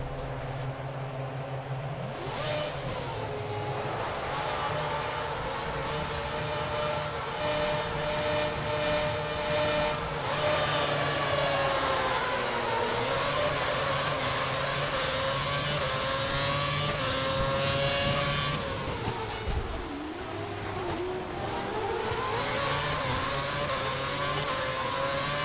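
Formula 1 race car engine in F1 2011 at Albert Park, Melbourne, driving Nick Heidfeld's car in wet weather: a loud continuous high-pitched whine rising and falling through gear changes and revs over about 25 seconds.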